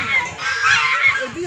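Geese honking nearby, a quick run of loud, nasal calls overlapping one another in a short burst, with faint background voices.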